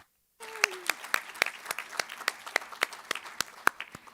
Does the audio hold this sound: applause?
yes